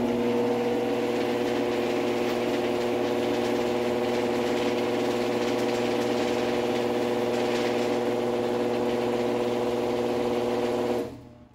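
A GX9000 lawn tractor engine runs at a steady, unchanging drone, close and loud, with a strong humming tone throughout before it shuts off and cuts out abruptly at the end.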